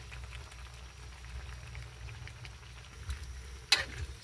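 Papaya and shrimp in a small wok, stirred while they fry and simmer, a soft steady sizzle with low bubbling and a sharper clink of the utensil near the end.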